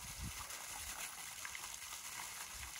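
Water splashing and trickling steadily as an elephant at a South African sanctuary pours a trunkful into its mouth, a continuous close wet spatter with low thumps underneath and no talking.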